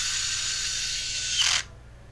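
A power driver runs a screw in to bolt down the cover of a Husqvarna T540 Mk II chainsaw, giving a steady high whir that ends in a brief grinding tightening and then stops.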